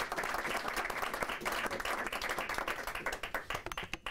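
People at a city news conference with the Albuquerque Fire Department give a round of applause, fairly faint but steady clapping from a small gathering that turns sparser and more distinct at the close.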